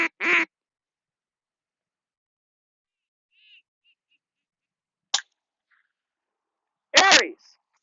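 Duck call and duck quacking at a retriever hunt test, a few short quacking bursts spaced apart with silence between, including a faint brief one mid-way.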